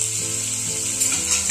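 Onion sizzling and frying in hot oil, a steady close hiss with faint crackle throughout, no voices.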